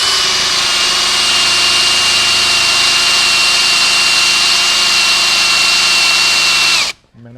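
A Bauer power drill with a 5/8 bit boring into a workpiece gives a loud, steady motor whine held for about seven seconds before cutting off abruptly into near silence.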